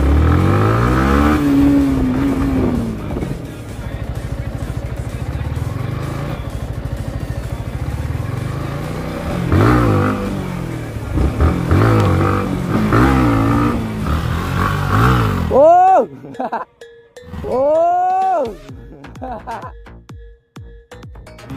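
Yamaha MT-15 motorcycle engine revving up close in a series of sharp throttle blips that rise and fall, loud, with people talking over it for much of the time.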